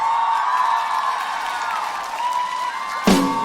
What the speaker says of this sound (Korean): 아름답게 하니까 좋다고 다들 박수치죠